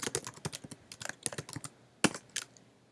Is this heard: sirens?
no